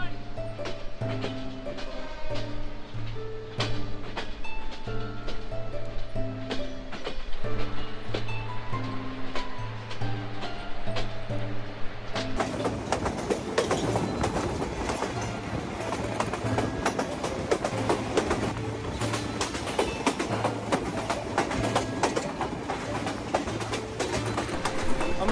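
Jahanabad Express intercity train running on rails near Singia railway station in winter: a loud, continuous rumble with rhythmic clattering that grows rougher and more intense about halfway through.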